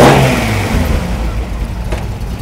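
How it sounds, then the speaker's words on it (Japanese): A Datsun 240Z engine fed by Weber 40 carburetors with a cold-air intake revs up loudly close by, then settles into a steady, lower-pitched running note. "ちょっとエンジンの音聞かせて"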